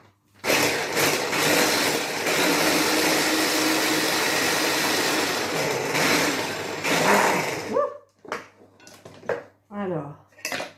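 A small electric chopper whirs loudly and steadily for about seven seconds, chopping two large basil leaves, then cuts off and a voice speaks in short bursts.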